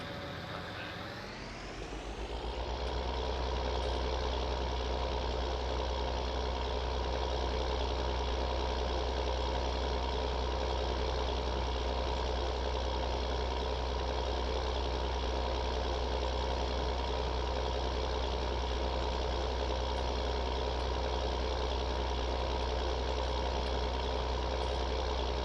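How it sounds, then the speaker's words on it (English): Tuned engine idling in Farming Simulator 19 on Xbox Series X rises quickly as it starts, then holds a loud, steady, deep droning rumble for the rest of the clip. "That's a nice sounding engine. You can tell it's tuned."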